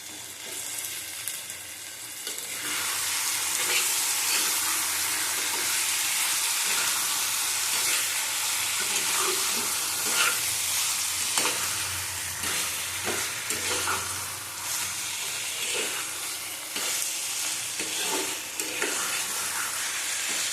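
Pointed gourd and potatoes frying in oil with a yogurt-based spice mix, starting quietly then swelling into a loud, sustained sizzle with repeated stirring scrapes and clatters throughout, close by.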